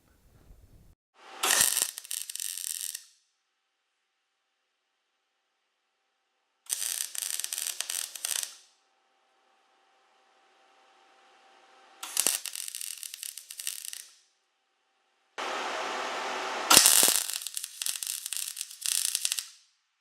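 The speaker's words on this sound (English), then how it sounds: "I'm just going to do a little bit of tack welding" Tack welding on a steel welding table, heard as four separate bursts of crackling arc, each lasting one to two seconds with quiet gaps between them, the last burst the longest.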